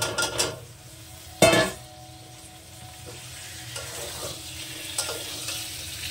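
Boiled potatoes being stirred into a spice masala in hot oil for aloo dum with peas, with a sharp clatter of a spoon against the pan near the start and a steady low sizzle running throughout.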